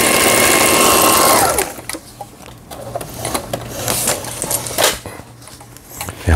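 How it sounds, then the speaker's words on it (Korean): A Janome household sewing machine runs an overlock stitch along a fabric edge, a loud fast whirring hum that stops abruptly, followed by scattered clicks and handling noises. "옷감이 풀리지 말도록 이렇게 해주는 오버록 스티치입니다."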